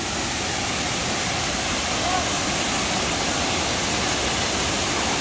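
Kravice waterfall in the Balkans, a steady broadband roar of falling water heard from nearby, constant and loud throughout with no breaks.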